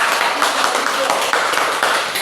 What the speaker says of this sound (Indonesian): Tepuk tangan untuk dia jujur.